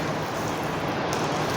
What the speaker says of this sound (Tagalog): Grabe guys, ang lakas ng ulan na.